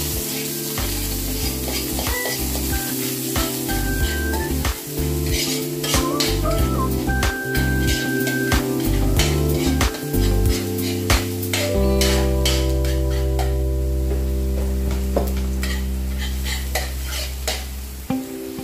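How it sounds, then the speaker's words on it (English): Carrots sauté in a hot oiled pan for Filipino chowpan-style fried rice, sizzling steadily with repeated scrapes and clanks of a spatula stirring against the pan. "Gisa natin ng konti yung carrots."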